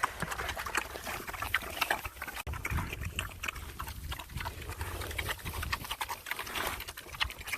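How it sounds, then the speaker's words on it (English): Hungry pigs on a Northern Michigan homestead eat feed dumped on the ground, giving a steady close mix of chewing, snuffling and rustling with the odd grunt, with no talk. "Oh, hungry little piggies. Dump some out on the ground too."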